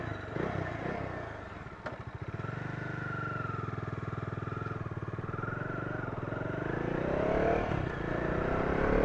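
A 2019 Bajaj Dominar 400 motorcycle with a DOHC engine pulling away and riding, a close, steady pulsing thrum that builds as it accelerates and rises in pitch toward the end.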